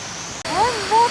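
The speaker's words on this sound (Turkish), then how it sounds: "Bakın sonundaki şelaleye" A steady rushing wash of waterfall noise at the end of Göynük Canyon fills the background while a person speaks over it with rising and falling tones.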